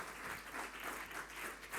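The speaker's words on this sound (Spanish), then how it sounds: "dale un aplauso" Church congregation at a Santa Cena service breaks into applause, a dense, steady, even patter of many hands clapping, fairly faint, continuing briefly without any voices.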